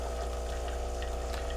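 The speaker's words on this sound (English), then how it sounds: "because the water is coming out" A Lavazza Classy Plus espresso machine pumps water through, giving a steady mechanical hum and drone under a soft, continuous flow of liquid, close and unbroken.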